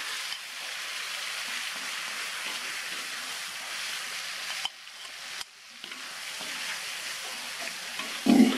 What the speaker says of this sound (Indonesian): Bumbunya ditumis, ditunggu sampai sedikit kering